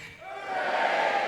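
Graduates at a university graduation ceremony cheer in unison, a swelling crowd shout that rises quickly and holds loud in a large hall.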